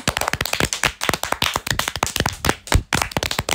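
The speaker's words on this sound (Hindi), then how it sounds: "सब लोग नीलू के लिए तालियां बजाने लगते हैं" A group of cartoon characters claps for Neelu in a doll cartoon, a rapid burst of crisp, close hand claps with uneven rhythm and no talking.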